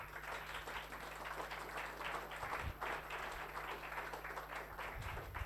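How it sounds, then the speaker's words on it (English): Faint, steady applause from an audience at a youth talk event welcoming a speaker to the stage, a continuous patter of many hands held under a low electrical hum for the whole stretch. "Please give a round of applause. Warm applause."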